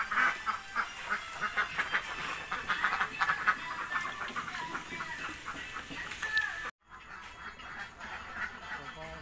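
Laying ducks on a duck farm quack in a busy, overlapping chorus at moderate distance, with a brief break near the end before the calls resume.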